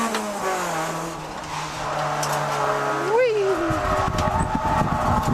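A Honda Prelude's engine drones steadily while drifting on a mountain road, its pitch shifting as it runs, with a short rising whine near the middle and rougher rumbling toward the end.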